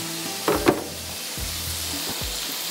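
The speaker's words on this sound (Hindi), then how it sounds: "अच्छा, चिकन को फ्राई करते हैं।" Chicken frying in a pan, a steady low sizzle with a couple of sharp clattering stirs near the start and a few softer knocks later.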